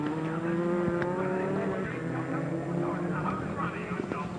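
Rally car sliding on a slippery, muddy Silverstone super special stage in the 1997 Network Q Rally of Great Britain, its engine droning steadily with faint tyre scrabble while a commentator talks over it.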